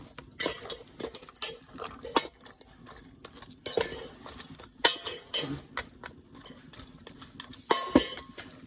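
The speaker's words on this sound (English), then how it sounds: "I'm gonna mix it up a little bit." Seasoning being mixed into a fish head in a pot for steaming, with repeated sharp metallic clinks of a utensil against the pot at an irregular rhythm, close by and without talk.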